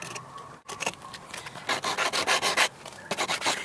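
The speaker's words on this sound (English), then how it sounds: "I'm gonna sand the white parts" Dried gel super glue on a car's rear-view mirror sanded with a sand block, giving close, repeated scratchy rubbing strokes in short bursts after a brief pause.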